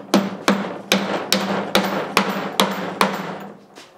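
A hammer drives drywall nails in a row of eight sharp, evenly spaced ringing strikes, loud and close, each blow followed by a brief metallic decay.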